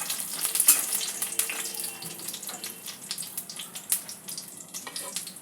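Lentil dumplings (bori) shallow-frying in oil in a kadai, a steady close crackling sizzle with frequent small pops and spatters.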